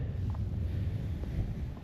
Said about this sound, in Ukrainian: посилюється вітер який дме в обличчя